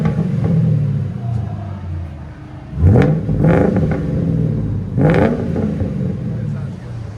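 A 2006 Mercury Grand Marquis 4.6L V8 with a custom H-pipe exhaust rumbles close by and revs sharply twice, each rev rising then falling back to a throaty burble, with people talking around it.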